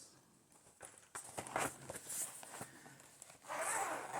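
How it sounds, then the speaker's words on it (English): Zippers on a bag being pulled open, several quick rasping zips one after another, close and fairly loud, with a longer pull at the end. "Sorry for the zippers."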